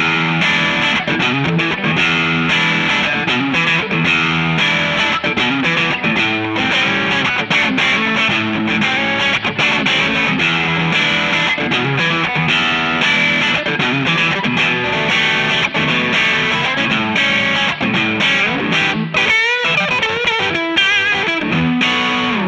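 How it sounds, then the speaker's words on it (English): Fender Stratocaster electric guitar played through a Vertex Dr. Special amplifier at higher gain, a continuous loud distorted performance of chords and lead lines with no talking. "I hope that you enjoyed this demonstration of the Vertex Dr. Special Amplifier"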